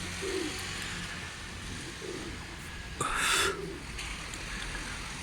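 Pigeons coo on a rooftop terrace, with soft, low, repeated calls across the clip, a brief louder burst of noise in the middle and a steady background hum.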